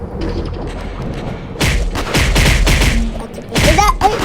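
Gunshots from a Roblox shooting game ring out as a rapid burst of loud, close bangs and thumps, with a brief quieter stretch at the start and another cluster of shots near the end.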